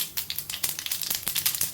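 Mustard seeds spluttering in hot oil for a South Indian mushroom stir fry: a quick, irregular run of sharp crackles and pops, close and fairly loud, with no talking.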